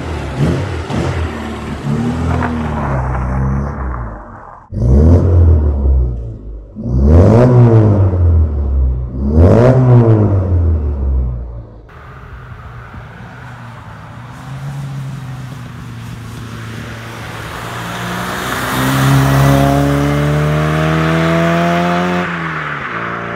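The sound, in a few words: Austin Mini engine driving after valve adjustment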